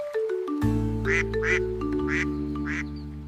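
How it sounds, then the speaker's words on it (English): A duck quacks four times in a steady rhythm over a sustained musical backing, each quack clear and close. "This is a duck."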